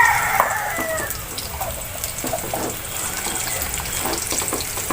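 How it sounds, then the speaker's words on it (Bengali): Marinated chicken for curry being mixed by hand in a bowl, a steady wet squelching and slapping that runs through the whole stretch with no talk over it. "এবার এটাকে আমরা মিক্স করছি।"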